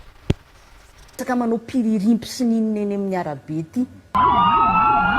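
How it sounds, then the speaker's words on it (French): A person talks for several seconds, then a loud emergency vehicle siren cuts in with a rising and falling wail. "dès que les usagers de la route entendent au loin le son de la sirène"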